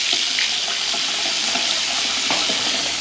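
Cold water runs steadily from a newly installed bathroom sink faucet, a constant close hiss and splash with faint clinks, no one talking.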